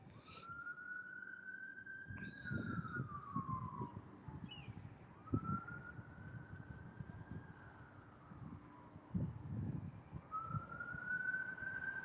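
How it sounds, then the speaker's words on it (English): Emergency sirens wail in long rising and falling sweeps from some distance, repeating several times over gusty wind buffeting the microphone, with low rumbling bursts in between. "The sirens are going off."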